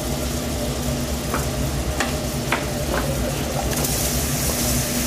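Mushrooms frying in a pan for coq au vin give a steady, dense sizzle throughout, close up, with a few faint clicks of utensils and no talking.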